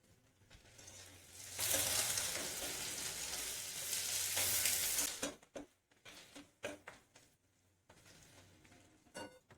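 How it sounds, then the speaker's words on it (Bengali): Chopped onions hit hot oil in a pan and break into a loud, bright sizzle, then the frying settles into quieter crackles with scraping stir sounds. "এবারে আমি দিয়ে দেবো পেঁয়াজ কুচোনো"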